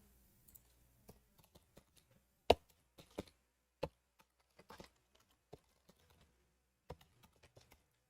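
Keys tapped on a computer keyboard while filling in an online form, a quiet, irregular run of close clicks and taps with short pauses and a few sharper strokes, with no talking.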